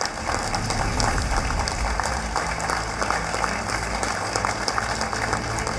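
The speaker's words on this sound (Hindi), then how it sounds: "यही वो पल है जब तालियों से पूरा भारत मंडपम गूंज उठा।" Applause ringing through the Bharat Mandapam hall at the G20 Summit in New Delhi: a continuous wash of clapping from a large audience, distant and reverberant with a steady level throughout.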